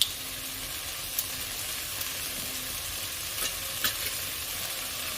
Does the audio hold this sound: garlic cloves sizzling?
yes